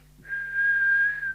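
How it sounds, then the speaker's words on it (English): A steady, sustained whistle is blown into a Midland 48+ CB radio during a test, close and fairly loud over a low background hum. "So let's give it a whistle test."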